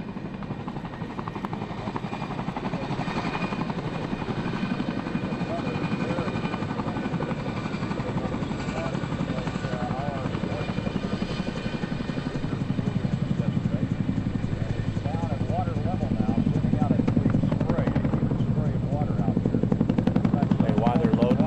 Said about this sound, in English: This helicopter has an aero refueling capability which allows Special Operations personnel to conduct missions deep within enemy territory.